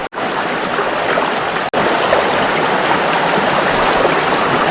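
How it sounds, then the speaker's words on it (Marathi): Steady rushing water fills the scene, a continuous broadband flow of a rocky river running close by, with one brief cut near the start. "समोर पाणी वाहतोय ना"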